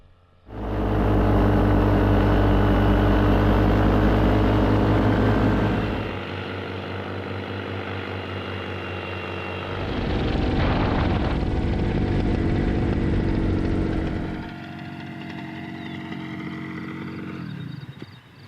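New paramotor engine in flight, a loud buzzing propeller drone with harmonic whine that rises, drops back, surges again and then fades as the throttle changes, heard alone with no talking.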